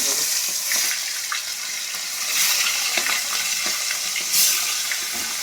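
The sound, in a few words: four fish frying in hot oil in a wok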